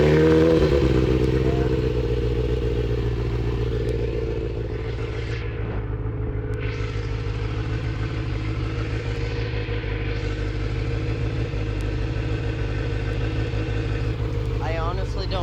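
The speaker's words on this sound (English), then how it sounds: "let's see if it starts up again." Kawasaki ZX6R motorcycle under rebuild, its engine starting and then idling with a loud, close, steady rumble and clatter for about fifteen seconds, with slight pitch wavers.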